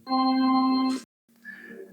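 A steady electronic tone with bright harmonics from a Tactonom Reader Flex tactile reader marks line one, sounding for about a second, stops abruptly, then a fainter, different tone starts after a short silence.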